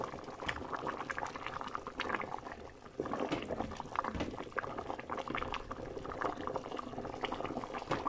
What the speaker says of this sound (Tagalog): Konting pakulo pa guys, para mailagay na natin yung bigas.